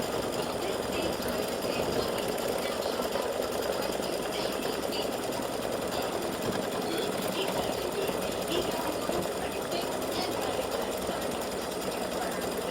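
An embroidery machine satin stitches around a horseshoe shape for St Patrick's Day earrings, producing a fast, continuous mechanical rattle and whir that stays steady and close throughout.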